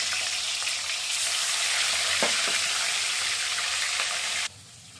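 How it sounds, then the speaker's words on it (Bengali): Fish sizzles steadily in hot oil with fenugreek seeds in a pan, a loud continuous frying hiss with a couple of brief utensil scrapes, cutting off to quiet near the end. "মাছটা হালকা একটু ভেজে নিব।"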